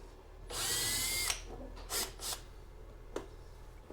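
Power tool loosening bolts on the rear end of an RT touring motorcycle: one sustained loud whir of nearly a second, followed by several short bursts, close up, with no talking.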